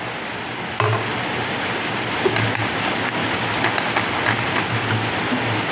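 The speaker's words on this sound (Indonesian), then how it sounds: "Di sini hujan ya" Steady rain falls outdoors as a dense, even hiss of drops on surfaces, with a sharp knock near the start and faint scattered taps, continuing without talk.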